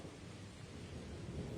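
Steady rain pours with a low, rolling rumble of thunder underneath, a dense continuous wash with no voices, set in an animated cartoon story.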